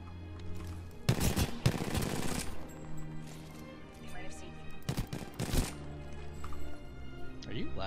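Gunfire in Apex Legends: two rapid automatic bursts crack out loudly, then a few scattered shots, while players talk to each other throughout.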